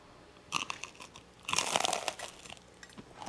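Loud, crisp crunches from biting into a toasted gluten-free chia flax bagel spread with schmear: a sharp first bite, then a denser burst of crunching and chewing up close, with no talking.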